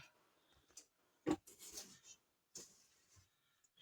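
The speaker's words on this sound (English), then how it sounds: "Scrape down the sides." Butter and sugar scraped down the sides of a mixing bowl for sweet potato biscotti dough: a few short, close rasping strokes with quiet pauses between them, no talking.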